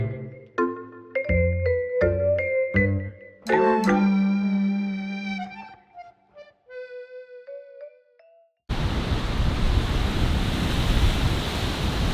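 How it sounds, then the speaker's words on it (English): Steady, loud wind buffeting the microphone beside the sea in France, with surf noise, arriving abruptly after a bright jingling musical sting and then roaring on continuously. "the wind has really picked up here"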